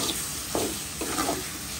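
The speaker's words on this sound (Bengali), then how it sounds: "একটু ভেজে নিলাম" Turmeric, chili, coriander and cumin fry in hot oil in a pan, a steady soft sizzle broken by two brief scraping stirs, close and alone.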